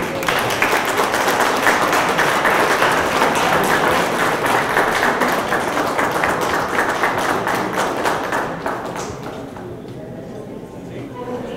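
An audience at a diploma program closing ceremony claps in a dense, sustained burst of applause that gradually fades and thins out toward the end.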